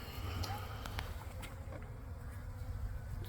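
Honey bees swarm and buzz steadily around a backyard hive near a field, a dense close drone throughout with faint bits of speech.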